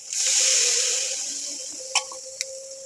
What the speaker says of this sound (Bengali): মশলাটা কষানো হয়ে গেছে, এবার অল্প একটু পানি দিয়ে দেবো।